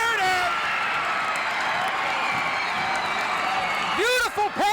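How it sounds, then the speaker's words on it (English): A gym crowd at a 1988 high school boys basketball game cheers loudly and steadily after a nice pass, a dense wall of noise, with a commentator's voice rising over it at the end. "Just listen to the crowd."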